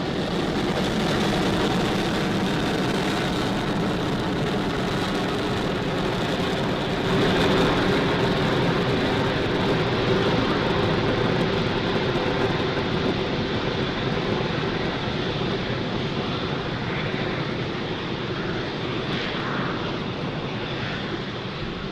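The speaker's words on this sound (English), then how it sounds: "Falcon 9 has successfully lifted off from Pad 40 at Cape Canaveral Space Force Station" Falcon 9 rocket engines roar during a Starlink launch ascent from Pad 40 at Cape Canaveral Space Force Station, a steady, broad, far-off rumble that stays loud and continuous throughout with no talk.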